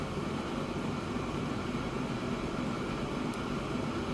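In the Transport Fever 2 video game, a large train climbs a long slope, heard as a faint, steady low rumble with a constant mechanical drone throughout.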